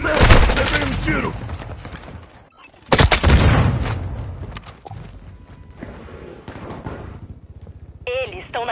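Gunfire rings out in a Call of Duty Modern Warfare 2 multiplayer match: loud, close bursts of shots with sharp peaks, mixed with in-game voices and other battle noise.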